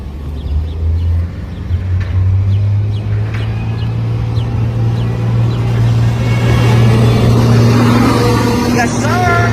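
2006-07 Daimler Chrysler Orion 07.501 Old Generation city bus engine accelerating, a loud close rumble with a steady rising drone. A voice talks over it throughout.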